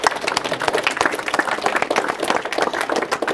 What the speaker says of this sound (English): Give a hand to the lovely Merlene.